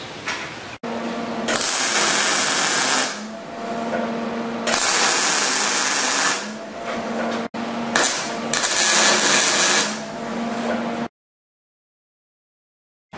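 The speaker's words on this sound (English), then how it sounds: "So we can go ahead and tack weld the second piece on there." MIG welder laying tack welds on a steel trailer ramp, three loud steady crackling bursts of a few seconds each with brief pauses between, ending in silence.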